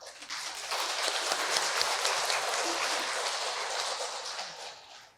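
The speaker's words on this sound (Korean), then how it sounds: "박수로 환영해 주시면 고맙겠습니다." Sustained applause from a church congregation at a Korean Catholic Mass in Sydney, a dense steady wash of clapping starting after a brief pause and fading at the end, heard fairly close in a reverberant hall.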